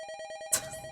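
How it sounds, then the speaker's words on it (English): The teleport spell in Dragon Quest II gives a rapid electronic warble like a ringing telephone, repeating for half a second before a short bright burst, quiet and alone. "That teleport sounded like a phone."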